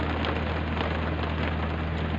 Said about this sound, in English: the noise is hailstones